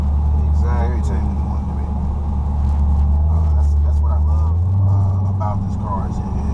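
Dodge Charger Hellcat cruising calmly on a sunny drive, a steady loud low engine drone with a slight swell near the end, heard from inside the cabin under continuous conversation.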